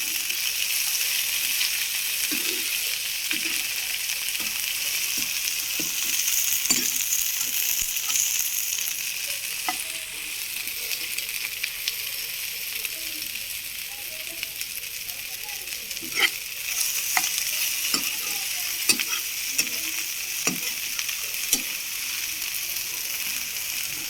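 Okra curry sizzles steadily in a pan while a spoon stirs it, with frequent scraping clicks against the metal over a continuous broadband frying hiss.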